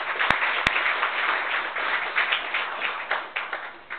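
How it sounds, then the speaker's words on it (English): A conference audience applauds its sponsors with even crowd clapping, two sharp knocks near the start and a few louder individual claps near the end, the whole sound slightly muffled. "I'd like you to join me, please, in giving them a round of applause."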